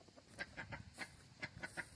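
Soft, repeated clucking from a few chickens nearby, irregular little calls scattered over a quiet background.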